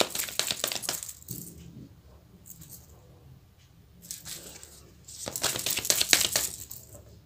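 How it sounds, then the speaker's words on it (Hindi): Tarot cards drop and scatter, then get gathered up with repeated sharp slaps, clicks and shuffling rustles in uneven bursts, close to the listener with brief quieter gaps. "कार्ड्स गिर गए हैं, ले लेते हैं एक सेकेंड"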